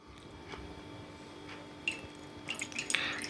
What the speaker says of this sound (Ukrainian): після цього я витискаю в неї сік лимона